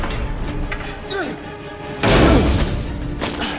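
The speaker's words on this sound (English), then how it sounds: "This is just all our hits. So anything that's just just kind of a big impact." Layered big-impact hit for the racing game Need for Speed: The Run: one heavy thudding slam bursts out midway, following quieter swooshing material, while someone talks over it.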